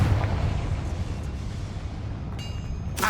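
A Confringo blasting curse from Hogwarts Legacy bursts with a heavy rumbling boom that rolls and fades, followed near the end by a bright magical crackle.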